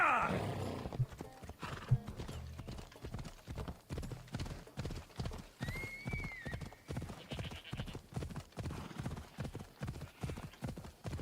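A horse in the Assassin's Creed Odyssey video game, with a fast, regular run of hoofbeats throughout and a brief whinny partway through, heard with some voice and game sound.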